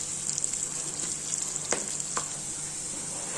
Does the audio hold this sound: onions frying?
yes